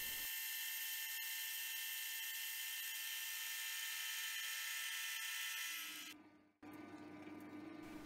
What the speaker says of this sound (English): letting the lathe do its thing